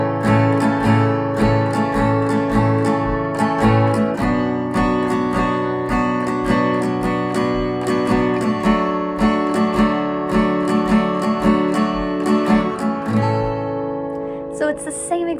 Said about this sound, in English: for this ending, you're going to have a strum using triplets